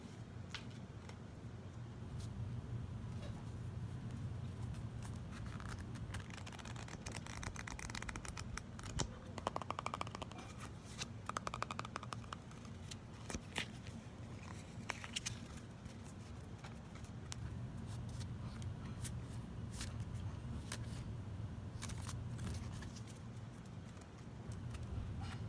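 Tarot cards are shuffled by hand in a quiet room, a faint ongoing papery riffle and soft slide of card stock with light repeated taps, steady and close, with no talking.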